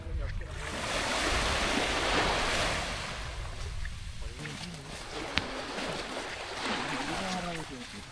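Calm sea waves wash gently onto the shore of Double Island in Palawan, a soft, steady surf with a light breeze, mid-distance and fairly quiet.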